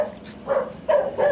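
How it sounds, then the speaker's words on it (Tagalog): A dog barks a few times in short bursts, near and moderately loud, with a slight whimpering edge and no talking. "May aso."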